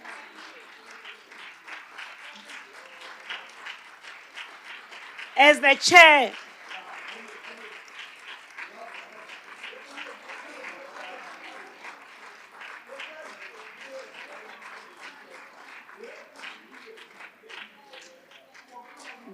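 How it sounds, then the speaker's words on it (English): Applause during a parliamentary house sitting swells steadily through a large chamber, a sustained patter of many hands, while someone speaks loudly over it partway through. "I deliberately allow you to clap his hands until he sit down"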